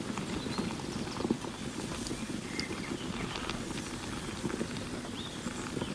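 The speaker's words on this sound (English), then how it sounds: "Fry over medium-low heat until golden brown." Continuous dense sizzling and crackling of pork ribs frying in a pan over medium-low heat, steady and close with small pops scattered throughout.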